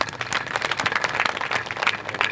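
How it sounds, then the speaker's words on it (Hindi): A church congregation claps together, a dense patter of many hands that is steady and moderately loud, with no voices over it. "ताली बजाओ इनके लिए।"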